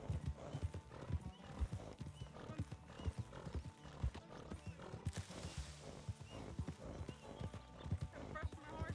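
A horse in the WildRP role-play game clip-clops steadily along, its hooves loud and close. A whinny breaks in about midway.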